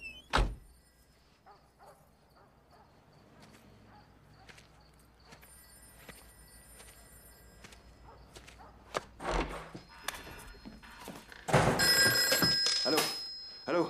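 A telephone bell rings in repeated bursts amid scattered thunks and room noise, growing louder and denser toward the end, with no speech over it.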